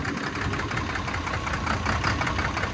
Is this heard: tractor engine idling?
yes